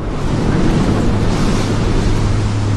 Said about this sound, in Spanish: El viento se vuelve más fresco, el mar se encrespa.